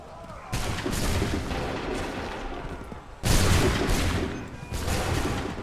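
Musket volleys in Assassin's Creed 3 crack out as repeated loud broadband bursts, with a big blast just past three seconds followed by sustained rumbling fire, brief shouted commands mixed in.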